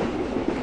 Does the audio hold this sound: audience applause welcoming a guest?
no